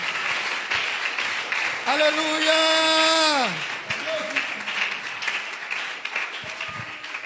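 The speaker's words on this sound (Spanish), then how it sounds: "Alguien que aplauda la unicidad de Dios." Church congregation applauding during an evangelical sermon, a steady wash of clapping throughout, with a loud sung or shouted voice rising over it midway and crowd noise continuing after.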